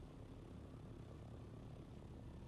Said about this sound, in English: that can be either a helicopter like this, or when I press shift, it turns into a glider